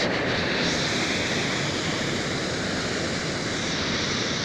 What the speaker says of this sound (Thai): น้ำไหล หลากมาจากลำห้วยสูบ